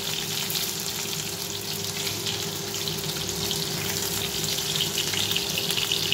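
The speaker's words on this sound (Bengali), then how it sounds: "দেখো বড়াগুলো আমার ভাজা হয়ে গেছে, লাল লাল মতন হয়েই গেছে।" Fritters (bora) frying in hot oil in a home kitchen, a continuous close sizzle with a fine bubbling crackle and a faint steady hum underneath, no talking.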